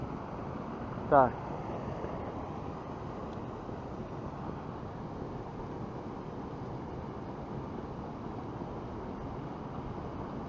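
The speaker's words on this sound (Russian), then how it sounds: "здесь вот такой вот шум воды" Steady broadband rushing of flowing water fills the whole clip, close and continuous, with a brief voice near the start.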